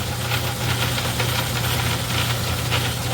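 A Craftsman 109 metal lathe runs at a raised belt-drive speed, making a steady close mechanical hum and drone with a faint rattle, unbroken and without speech.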